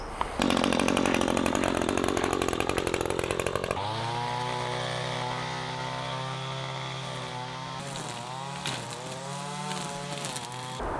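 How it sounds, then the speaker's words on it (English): A string trimmer cuts grassy weeds in a garden, its small engine buzzing loud and close, first at a high, rapidly pulsing whine, then dropping to a lower, fluctuating drone as the load changes. "Now the string trimmer works best on the grassy kind of weeds."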